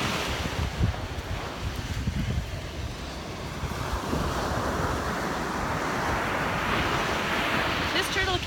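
Steady surf rolls and washes continuously on the beach at Canaveral National Seashore, with wind buffeting the microphone throughout and no clear voices.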